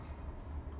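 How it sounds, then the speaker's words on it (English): A train slowly pulling out of a station in the video game Persona 4 Arena Ultimax, heard as a faint, continuous low rumble of rolling carriages. "I take a breather as the train slowly pulls out."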